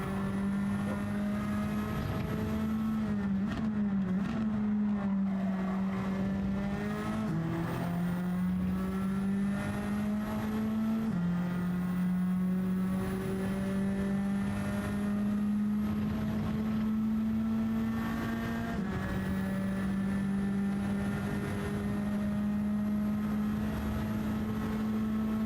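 A race car engine in Gran Turismo 7 holds a loud, steady drone, its pitch stepping up and down in repeated revs and gear changes across the whole stretch, with no voices.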